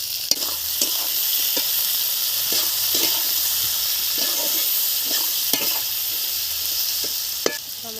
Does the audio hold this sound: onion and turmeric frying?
yes